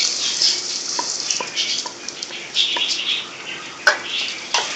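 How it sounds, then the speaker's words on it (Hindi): Onions dropping into hot oil with cumin seeds, frying in a pan: a steady, moderate sizzle with scattered crackles and small clicks from stirring, a sharper tap near the end, and no voice. "अब इसमें हम डाल रहे हैं प्याज"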